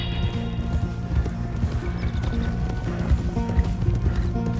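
Horse hooves clip-clop steadily at a walking pace near the stables in Red Dead Redemption 2, loud and close over a low rumbling game backdrop.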